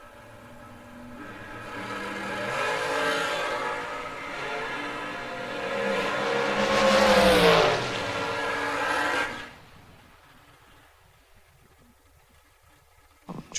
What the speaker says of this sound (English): Brian Recolaitis, that dragster in from Pittston.